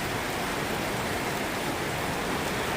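Steady rain pours down outdoors beside a backyard pond, a dense, even hiss from start to end with no gaps or voices.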